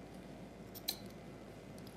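A single quick snip of scissors through chasuble fabric, faint and close, over a low steady room hum with no talking.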